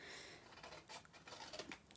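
A pair of scissors snips quietly in a rapid run of small cuts across two seconds, close by with no voices.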